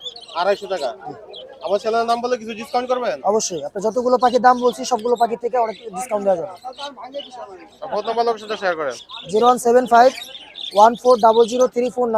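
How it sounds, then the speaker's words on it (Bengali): Caged budgerigars chirp at the Hemayetpur bird market, their quick, high twitters running faintly and steadily beneath someone talking almost nonstop. "এখানে সুন্দর সুন্দর কিছু বাজিকার আছে বাজিকার পেয়ার"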